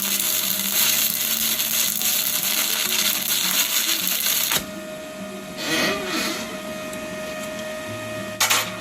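An ARCCAPTAIN TIG 200 welder lays a bead on an 8-inch 718 rod, giving a steady, loud buzzing hiss with a constant whine that drops in level midway, then carries on with brief crackles.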